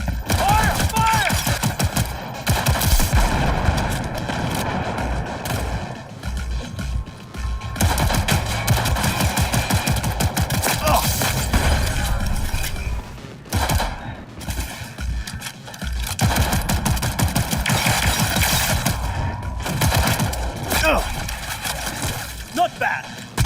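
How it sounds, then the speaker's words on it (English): Close-range automatic gunfire in the Cyberpunk 2077 video game, dense sustained bursts rattling almost continuously with only brief pauses, loud and near, with shouting voices mixed into the firefight. "Firing at close range!"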